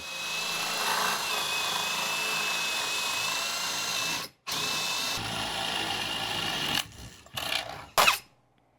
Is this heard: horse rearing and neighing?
no